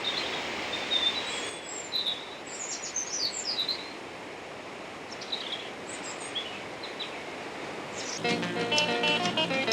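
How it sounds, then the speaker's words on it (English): Birds chirp and tweet in short, high bursts scattered across a quiet hill countryside setting in Himachal Pradesh, over a soft steady background hiss, with a denser, busier stretch of calls near the end. "Contrast this with the sounds of birds chirping and leaves rustling."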